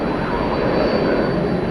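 A jet airliner taxis at DFW Airport at night, its engines a steady, even, moderately distant roar with no talk over it.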